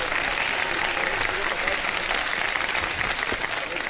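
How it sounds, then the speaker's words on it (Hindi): Studio audience applause at a televised Ramadan game show as a contestant wins prizes, dense and steady clapping throughout, loud and close with no talk over it. "बहुत सारी तालियां"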